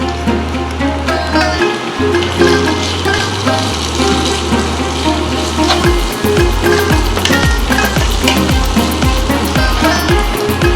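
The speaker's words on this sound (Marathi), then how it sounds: "मी हे अद्रक लसणाची पेस्ट त्याच्यामध्ये फ्राय करून घेतो" Ginger-garlic paste frying in a pan of melted masala gravy, meant for a prawn curry, gives a loud, close, steady sizzle with clattering stirring and scraping strokes across it, and nobody speaks.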